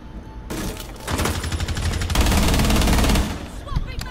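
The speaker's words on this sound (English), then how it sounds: "Someone's shooting at me." Rapid automatic gunfire in the video game Rainbow Six Siege, sustained bursts of loud close shots lasting several seconds, with a pause and final shots near the end.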